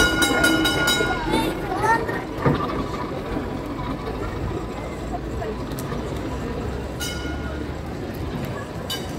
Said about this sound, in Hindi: गाइस ट्राम आ रही है हमारे पीछे, तो हम लोग आपको दिखाते हैं कि भाई ट्राम चल भी रही है।